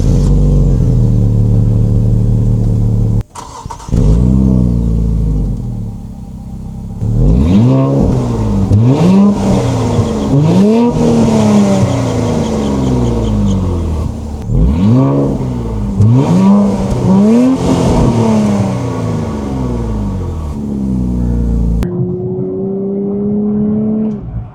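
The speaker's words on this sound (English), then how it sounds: "That thing you heard right now is just fake engine noise." A 2025 Nissan Z Nismo revs repeatedly, its piped-in synthetic engine note rising and falling in loud sweeping surges over a steady idle, ending on a sustained higher drone.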